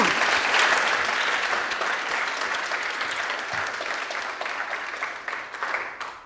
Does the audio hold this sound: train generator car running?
no